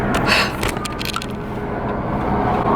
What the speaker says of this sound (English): I'm on the side of the highway right now waiting for a tow truck